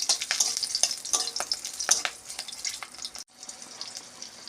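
Dried red chillies and green chillies fry in hot oil for Bengali cooking: a quiet, crackling sizzle with stirring scrapes that cuts off briefly near the end, then resumes more softly.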